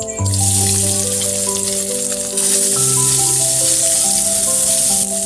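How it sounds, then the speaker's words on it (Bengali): Soybean chunks fry in hot oil left in a wok after frying pointed gourd, a constant hissing sizzle partly covered by prominent background music. "ওই তেলেতেই সয়াবিনটা ভেজে নেব"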